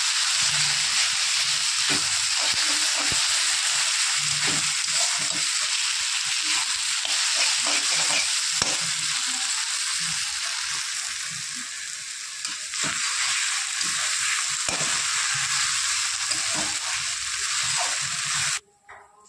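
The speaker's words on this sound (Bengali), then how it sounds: "আদা রসুনটা ভালো করে কষিয়ে নেওয়ার পর জিরে গুঁড়ো, লঙ্কার গুঁড়ো, হলুদের গুঁড়ো আর কাশ্মীরি লঙ্কার গুঁড়ো দিয়ে দেবো" Ginger-garlic paste sizzles steadily in hot oil with cumin, chili, turmeric and Kashmiri chili powders, a loud continuous frying hiss with occasional stirring scrapes, cut off abruptly near the end.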